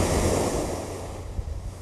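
Surf from the East Sea breaks on a pale sandy beach, a steady broadband wash of waves rolling in close by and loud, with some wind across the microphone.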